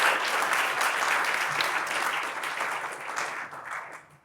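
Dense, close applause from a conference audience thanking a transport technology panel, holding steady and then tapering off toward the end.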